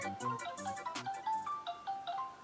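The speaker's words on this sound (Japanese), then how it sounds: "勝也に電話" A phone's ringing tone plays a repeating melodic pattern of short electronic notes, moderately quiet and steady, with no voices over it.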